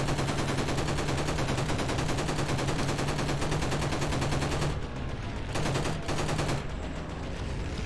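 Enemy machine-gun fire in an old video game, a dense rapid rattle of automatic shots that runs loud and unbroken, then stutters in short bursts near the end.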